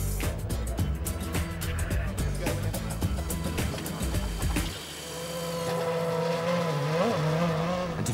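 A Williams Formula One race car screams past at high revs, its engine note rising and falling through gear changes, loud and close, then settling into a sustained whine as it pulls away.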